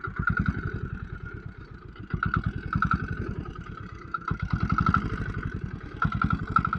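A 2005 Royal Enfield motorcycle engine runs with a knocky, diesel-like beat, steady rapid thumping pulses close by that rise and fall slightly in pace, with a mechanical clatter over the top.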